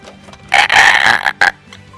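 A person screeches into a microphone in imitation of a screaming monkey, a loud voiced shriek in two bursts, one long and one short, close and harsh with no other talk.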